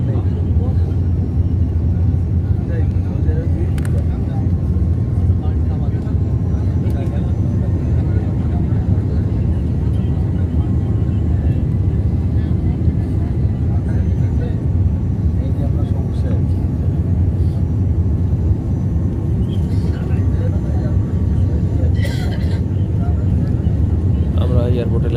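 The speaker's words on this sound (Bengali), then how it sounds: "এইমাত্র চাকা মাটিতে একটু ঝাঁকুনি দিয়ে চাকা মাটি স্পর্শ করলো।" An airliner lands on a runway after a flight from Mecca and Medina, heard from inside the cabin as a loud, steady engine and rolling rumble with voices beneath it; no distinct touchdown thump stands out.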